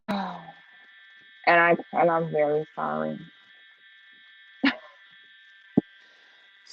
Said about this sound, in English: I think they're testing the fire alarms.